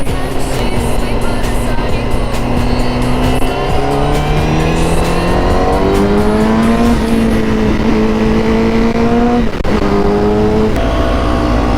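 A Honda CBR1000RR-R Fireblade SP with an Akrapovic exhaust revs loud and close, its engine note rising steadily through the gears, with a brief throttle blip near the end.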